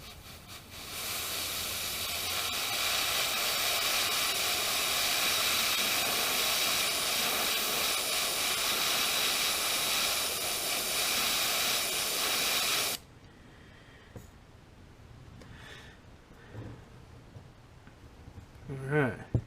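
An airbrush sprays paint over a stencil held against a fishing bait being painted in a smallmouth bass pattern, a loud steady hiss running for about thirteen seconds before cutting off, leaving quiet handling noises.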